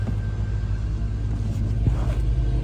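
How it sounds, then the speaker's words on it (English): Engine of a 1984 Chevrolet K5 Blazer, metallic blue, idling with a steady low rumble that swells slightly in a mild rev, heard nearby and continuous without talk. "Give this thing a rev so you can hear it."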